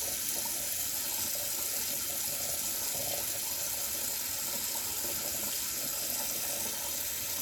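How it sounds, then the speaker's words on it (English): Water runs steadily from a kitchen tap while an Instant Pot inner pot is washed in hot soapy water, a continuous broadband splashing hiss with no talk over it. "And you wash the inside of this good with hot soapy water."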